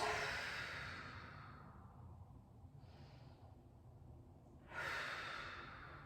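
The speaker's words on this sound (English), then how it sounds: "Big breath in and out." A deep yoga breath: a long, soft inhale fading away, a brief quiet pause, then a fuller exhale, close and faint with no talking.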